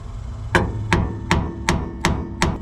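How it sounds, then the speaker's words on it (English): Six light, evenly spaced hammer taps on rusty, corroded metal of a 1950 Dodge Meadowbrook ring out sharply, each with a brief metallic decay, close by and without speech. "a few light taps with the hammer help break up some of that rust and corrosion"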